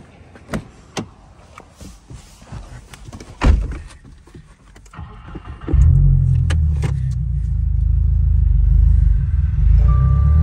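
A 2022 Subaru WRX running on E30 fuel pulls up close by, its engine rising into a loud, steady rumble after a few scattered knocks and clunks nearby.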